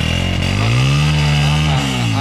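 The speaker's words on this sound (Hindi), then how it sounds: "मोटरसाइकिल को मार दी है किक, और क्या साउंड है इसका" A motorcycle engine running loud and close just after a kick start on a street in Multan, Pakistan, with a steady revving drone that rises and holds, then dips near the end.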